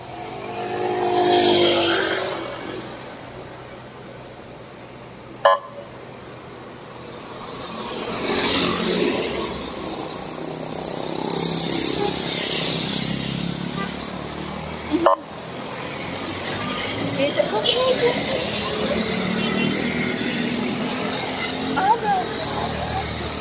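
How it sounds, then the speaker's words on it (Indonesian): Road traffic moves along Jalan Poros Maros Makassar: vehicles rumble past in waves, with a few sharp horn toots and engines revving, while a voice talks over the steady traffic noise. "seperti inilah arus lalu lintas di Jalan Poros Maros Makassar"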